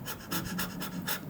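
A person imitates a stressed dog's panting, with fast, shallow breaths high in the chest repeating in a quick, even rhythm of about six puffs, close and breathy.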